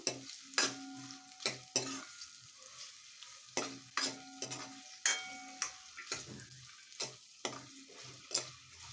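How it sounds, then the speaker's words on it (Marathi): Finely chopped onion sautéing in a pan, a soft sizzle broken by repeated sharp metallic spatula scrapes and knocks at an uneven, roughly once-per-second rhythm, close by and without talk. "याच्यामध्ये एक बारीक चिरलेला कांदा टाकायचा आहे तर कांदा गोल्डन ब्राऊन होईपर्यंत परतून घ्यायचा"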